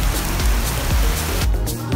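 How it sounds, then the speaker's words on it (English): Steady rain falling outdoors in Cebu City, a dense continuous hiss of drops on surfaces with faint scattered patters, fairly close and unbroken throughout. "today is May 13 and it's raining outside"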